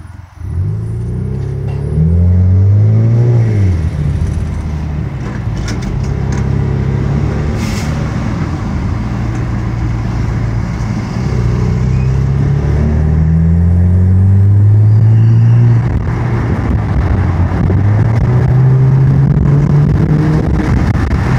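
A 2.0-litre turbo Chevrolet Camaro with intake and muffler delete, heard from inside the car with windows down, gives a loud continuous engine drone that rises and falls as it revs through gears, with steady road rumble.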